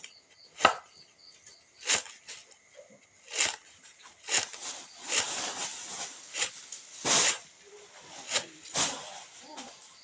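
Knife chopping shallots on a board, heard as a series of sharp, close, irregular thwacks and cuts spaced roughly a second apart, with quieter scraping between strokes.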